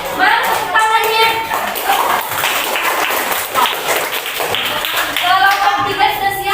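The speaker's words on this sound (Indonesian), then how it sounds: "Woi, tepuk tangan dong kelompok 2." A classroom of children claps for a group, with brisk, uneven hand claps mixed with children's chatter and voices throughout.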